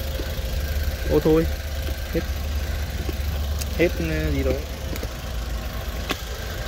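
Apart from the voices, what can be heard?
Matiz Groove 2010 car engine idling quietly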